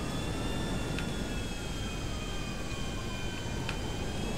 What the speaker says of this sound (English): the chopper's coming!